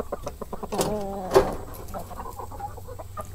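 Rhode Island hens clucking in a backyard coop, a few short broken calls rising around the middle over a steady low background hum, fairly close and moderately loud.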